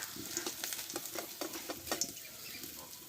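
Garlic fries in hot oil until reddish, a quiet, crackling sizzle broken by a run of soft, regular scraping stirs, heard alone without any voice.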